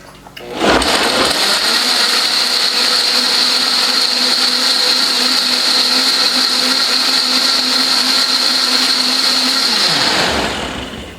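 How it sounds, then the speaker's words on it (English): A kitchen blender runs steadily for about ten seconds, purring smoothly as it purées barbacoa sauce, a loud continuous whir with no pauses that starts abruptly and then winds down. "we are just going to blend this all up until it's smooth"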